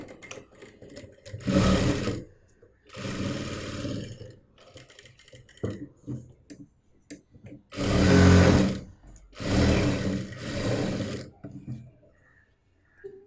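A sewing machine stitches the side seam of a small mobile pouch made from waste cloth, running in several loud bursts of whirring with short pauses between, with a voice speaking in the gaps.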